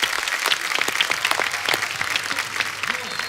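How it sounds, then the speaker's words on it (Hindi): A studio audience on a comedy talk show gives a round of applause for Suresh Raina and his wife Priyanka, a dense, steady wash of many clapping hands lasting throughout at even loudness. "एक बार जोरदार तालियां सुरेश पाजी और प्रियंका भाभी के लिए।"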